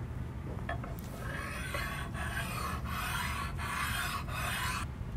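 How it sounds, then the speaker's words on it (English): A bench stone rubs back and forth over the surface of a ball rail in a steady rasping rhythm, close and continuous, with about six repeated strokes and no talking. "I would make sure that I could stone it out with a bench stone"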